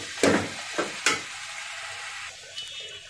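Beef pieces being fried and stirred in a pan while cooking tehari, with three sharp scraping stirs near the start and then a softer, quieter sizzle that trails off.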